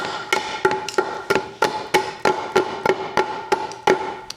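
Steady hammer blows knocking out cuts in wood, about a dozen evenly spaced sharp knocks with a ringing tone, close and clear, no talking.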